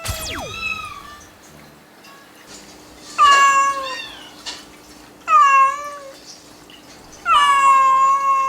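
A mother cat who has lost her kittens gives plaintive meows: one faint cry, then three loud drawn-out wails spaced about two seconds apart, close and alone over quiet room noise.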